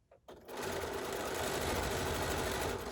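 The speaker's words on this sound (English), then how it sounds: "I'm just going to sew with a 1/4 inch, of course, in a neutral thread." A sewing machine chain-pieces quilt blocks with a 1/4 inch seam in neutral thread, starting up after a brief pause and then running in a steady, loud, rapid whir close by.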